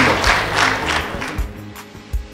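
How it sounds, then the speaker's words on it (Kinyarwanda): Applause from wedding guests at a Rwandan traditional wedding in Dayton, Ohio: a burst of close, rhythmic clapping that fades and gives way to a few scattered claps. "amashyi menshi murakoze cyane"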